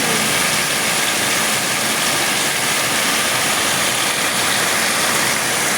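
Water gushes loudly and continuously into a tank, a dense broadband rush with a steady engine running underneath and no pauses.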